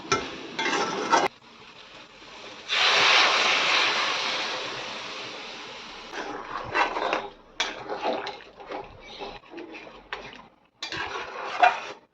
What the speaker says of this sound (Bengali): আবার একটু নেড়ে চেড়ে নিয়ে গরম জলটা দিয়ে দেবো